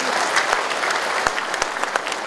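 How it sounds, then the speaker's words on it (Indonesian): Applause from the crowd at a Bandung civic coordination meeting of neighbourhood and village officials, a brief burst of dense clapping with a few sharper individual claps standing out, loud and close. "Tepuk tangan untuk kita."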